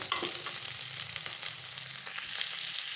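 Sliced okra fries in a pan for vendaikkai fry and is stirred. A steady close sizzle runs throughout, with soft scraping and clinking from the stirring. No voice is heard.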